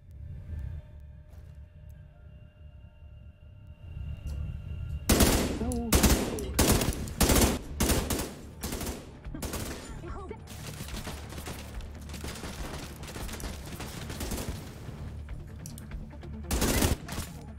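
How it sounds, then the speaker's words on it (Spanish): Bursts of machine gun fire from The Division 2 crackle in rapid sharp volleys over a low rumble, with a faint voice early on and dense repeated shots mid-clip. "allí arriba hay una ametralladora"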